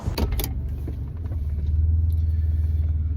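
Car interior while driving, a low steady engine rumble and road drone that grows louder and smoother after a few seconds, with a couple of brief clicks and rattles near the start and no talking.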